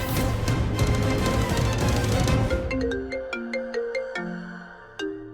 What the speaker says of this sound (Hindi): पापा का फोन।